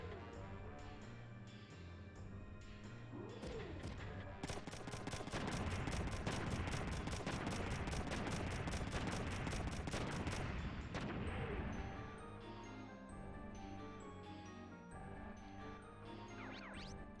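Sustained machine-gun fire in Front Mission 3, a dense rattling barrage of rapid shots lasting several seconds between quieter game sounds and music, loud at its peak.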